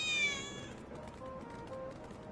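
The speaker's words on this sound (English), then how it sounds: "I think one of Betty's cats might be nearby" A cat meows once in the Final Fantasy VII Remake video game, a short, clear, high mew at the start, then faint quieter trailing sounds.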